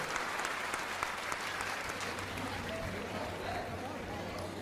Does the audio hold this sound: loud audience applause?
yes